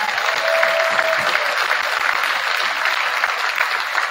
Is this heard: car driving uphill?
no